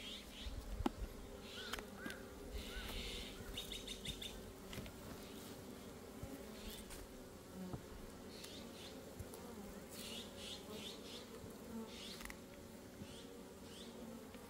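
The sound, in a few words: honeybees buzzing around hive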